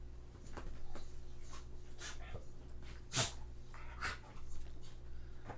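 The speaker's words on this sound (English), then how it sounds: "There's just, like, a dog here." A dog snorting and breathing close by, with a few short sharp snorts or sneeze-like bursts over a steady low hum; a voice talks faintly in the background.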